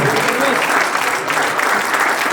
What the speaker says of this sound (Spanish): fuerte ese aplauso al Señor.